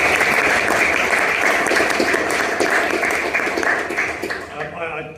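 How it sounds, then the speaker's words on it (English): Audience applause at a meeting hosted by the Henry Jackson Society in the UK Parliament: dense, sustained clapping from a crowd indoors, steady for several seconds before thinning out toward the end. "I think we should give him a round of applause"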